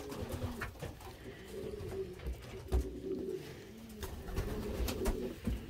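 Racing pigeons in a loft coo softly and repeatedly, their low burbling calls overlapping. Scattered thumps and rustles from the birds moving about break in, and the whole scene stays fairly quiet.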